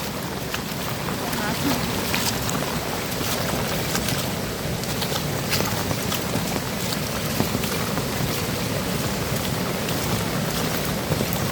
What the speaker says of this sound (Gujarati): પૂર જાય નદીમાં જોરદાર